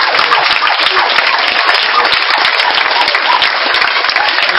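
A congregation at a church service bursts into loud, dense applause that fills the room, steady and sustained throughout with no pauses.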